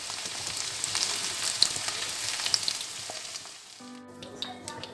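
Okra (bhindi) frying in hot oil gives a dense, steady sizzle and crackle close by. The sizzle thins out near the end, when a few clinks and a faint tonal hum come in.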